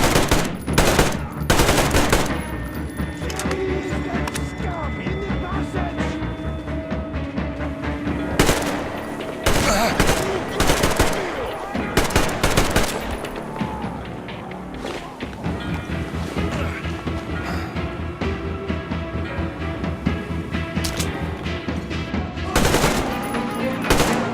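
Gunfire in the shooter Metro Exodus, dense bursts of automatic weapon fire and sharp single shots cracking repeatedly over a rumbling background, loud and close, with brief lulls between volleys.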